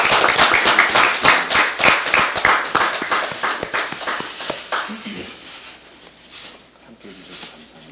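Audience at a political party event hall clapping in a dense burst of applause that stays strong for several seconds before thinning out and fading to quieter scattered claps.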